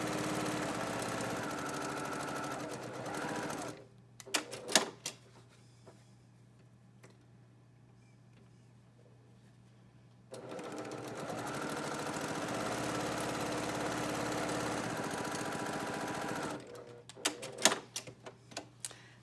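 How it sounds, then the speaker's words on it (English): Machine stitching quilt squares for half-square triangles runs steadily in two long stretches, broken by a quiet pause and a few short ticking taps between runs. "So we're going to sew 1/4 inch each side of that line we drew from point to point."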